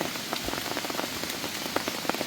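Heavy rain pours steadily through a mountain forest at night, a dense, close hiss with scattered sharper drops striking nearby surfaces, continuous and loud with no voices.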